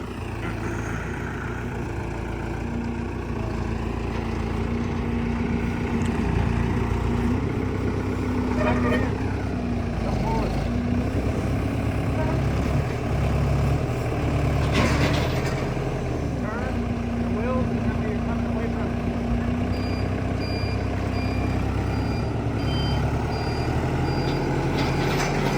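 Outdoors, a truck engine idles steadily while scissor lifts come off a trailer, a reversing alarm beeps in an even rhythm and metal clanks now and then. Voices can be heard over the engine.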